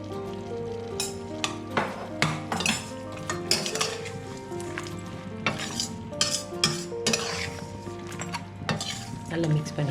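Metal spoon scraping and clinking against a pan as spices are stirred into mutton chukka, with a steady sizzle underneath and irregular knocks throughout.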